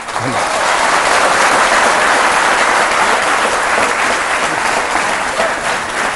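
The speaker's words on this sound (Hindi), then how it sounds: "ये बहुत अच्छी बात है जिस पर यहाँ मौजूद जनता और महबूबा जी दोनों ने ताली बजाई" Studio audience applause on an Indian TV courtroom-style talk show, dense and loud clapping that holds evenly throughout without a break.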